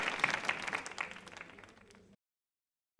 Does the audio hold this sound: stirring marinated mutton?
no